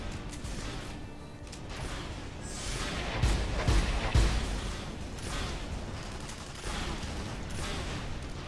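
Rapid gunfire and explosive impacts crackle in Tribes: Ascend, a team deathmatch shooter. The shots come in dense bursts with a couple of heavier booms near the middle, over steady game noise and with no talking.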